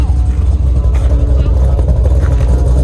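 A Freightliner cabover semi truck engine idles in a loud, steady low rumble, close by and constant, with a voice talking over it.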